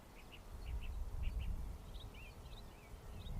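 A crow calls repeatedly in short, moderately distant caws over a steady low rumble of airport noise at an airfield during evening plane spotting.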